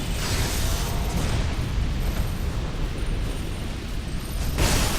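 A dragon's fire breath in Dark Souls 2 roars as a loud, continuous rushing blast of flame lasting several seconds, with a rumbling low end and brief surges at the start and near the end.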